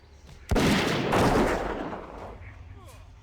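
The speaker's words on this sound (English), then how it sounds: "now I'm going to start shooting." Gunfire from World of Warcraft Classic combat in Hillsbrad Foothills: a sharp burst that opens into a dense, sustained volley of shots and impacts, loud and close, then fading over about two seconds.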